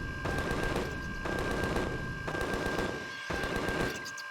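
Automatic turrets in Empyrion Galactic Survival fire rapid bursts at enemies inside an abandoned mine, four loud sustained volleys separated by brief pauses, with a steady tonal hum underneath.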